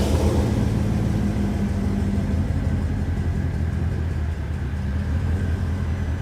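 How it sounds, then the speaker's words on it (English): A 2006 Porsche Cayenne Turbo S V8 runs loud and steady on a cold start, a deep throbbing exhaust rumble that stays fairly constant throughout. "this is the cold start of a 2006 Porsche Cayenne Turbo S"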